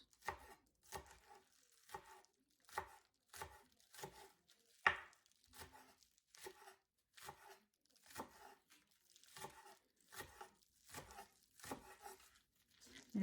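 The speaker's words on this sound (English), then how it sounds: "And then you want to take your scallions and just chop them" Scallions being chopped into small pieces on a cutting board, a quiet, steady series of crisp knife strokes at a regular pace of about one per second, close with no speech.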